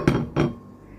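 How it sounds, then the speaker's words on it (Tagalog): Lentil rice for adas polo going into a cooking pot: two quick clattering knocks of grains and metal close by, then a faint lingering rattle. "Ayan, ilalagay na ni Manay sa ating kaserola o kaldero o pot."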